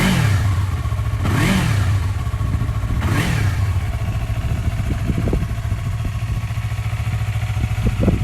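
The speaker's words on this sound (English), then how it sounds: "Give it a little rev for you." Yamaha R3 310cc motorcycle from 2016 with an Akrapovic exhaust, idling with a deep steady burble and blipped twice in sharp revs that rise and fall back, close by with no talking.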